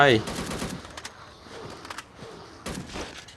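Gunfire aimed at a zombie boss in the mobile shooter Unkilled, with several sharp bursts of shots spread across the moment over a low game background.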